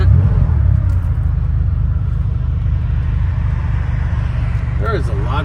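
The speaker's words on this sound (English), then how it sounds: "There is a lot of traffic" Steady low rumble of road traffic around a 1985 Porsche 911 Turbo-Look coupe on a road test, loud and continuous throughout, with a brief voice near the end.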